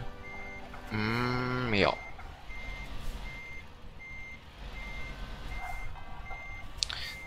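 Truck reversing alarm in the driving game Euro Truck Simulator 2, a regular series of short evenly spaced beeps under a steady engine hum, with a loud horn-like blast early on and brief talk.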